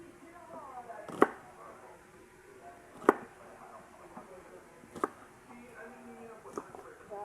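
A knife chops tomatoes and onions for a dipping sauce in four sharp, well-spaced strikes against a board, close and clear over a quiet background.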